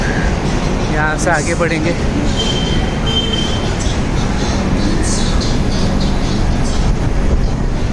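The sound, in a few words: Rajdhani Express AC generator car humming at station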